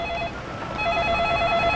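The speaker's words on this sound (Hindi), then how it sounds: "उसी टाइम उसका फ़ोन बजा" A telephone rings as a sound effect, with a faint electronic ringing tone that drops out briefly and then returns in quick repeated pulses over a soft background.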